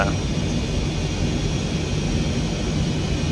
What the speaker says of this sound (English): The jet is quite loud.